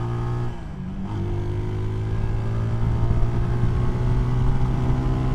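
A CSC SG250 cafe racer motorcycle with stock exhaust revs at full throttle, its exhaust note climbing and holding at a loud, steady roar after a brief dip at the start.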